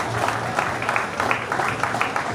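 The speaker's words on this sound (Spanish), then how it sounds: "Un aplauso para Eduardo" A small crowd at an art exhibition opening applauds briefly, a steady, moderately loud patter of clapping with a faint low hum beneath.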